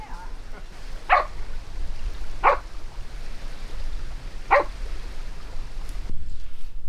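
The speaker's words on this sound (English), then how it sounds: "Dogs everywhere." Dogs barking at a campground by the seashore, three separate single barks spaced a second or two apart, moderately distant, over steady outdoor background noise.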